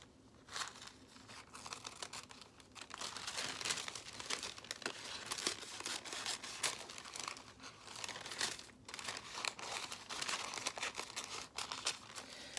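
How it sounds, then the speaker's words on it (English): Paper pattern pieces for a Luna Lapin T-shirt dress are roughly cut out by hand, giving a steady stream of close, soft crinkling and rustling paper with scissor snips, and no talking. "I just rough cut them out first before I put them on my fabric"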